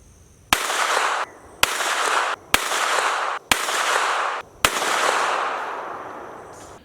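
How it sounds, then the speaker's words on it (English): Five loud, sharp pistol shots from a Glock firing 124 grain Gold Dot rounds at 25 yards, spaced about a second apart, each with a ringing outdoor decay, the last echoing longest. "here's a 5-round group I fired for confirmation purposes after I zeroed the gun. 124 grain gold dot, fired from 25 yards"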